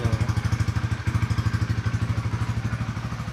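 A Honda Winner X underbone motorcycle idling, its engine and exhaust thumping in a quick, even rhythmic putter, loud and close throughout.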